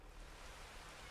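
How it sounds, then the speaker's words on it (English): Rain in Farming Simulator 22, a steady, faint, even hiss of falling drops with no pauses and no voices. "Oh, and it's raining."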